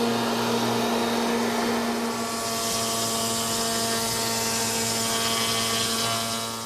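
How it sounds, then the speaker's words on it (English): A molding machine runs steadily, its cutter head with two knives spinning at very high speed in a woodworking shop, giving a loud, continuous whine and roar with steady tonal hum and no talk. "I happen to have a molding machine. It has a cutter head with 2 knives that turn at a very high rate of speed"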